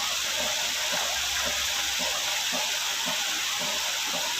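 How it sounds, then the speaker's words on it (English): Hot water at 55 to 60 degrees Celsius is poured into a hot water bag in a steady, close, continuous hissing gush with faint rhythmic gurgles and no pauses. "So I'm just gonna put the water in here."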